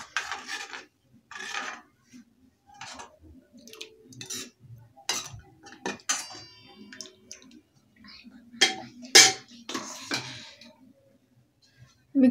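Cooked rajma kidney beans being stirred into fried spices in a pot, with repeated wet scraping and rubbing strokes of a spoon, irregular and close, occasional louder clinks against the metal.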